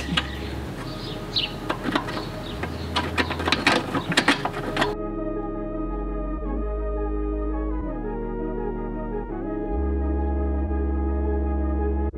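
A ratchet drives the OEM bolt back into a FactionFab pitch stop mount, first with rapid clicking strokes, then a smoother whirring run with steady pauses between turns, close and clear with no talk.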